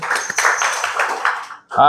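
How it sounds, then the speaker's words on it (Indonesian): Applause from a classroom of students fills most of the moment as a dense patter, with a voice talking over it before the clapping fades and speech takes over at the end. "Kasih tepuk tangan buat Istendi"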